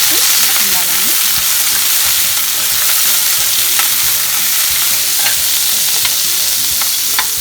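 Cashews fry in a pan for flattened-rice upma, stirred constantly, giving a loud continuous sizzle dotted with light scraping clicks from the stirring, and no voices.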